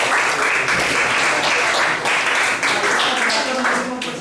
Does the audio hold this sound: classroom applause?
yes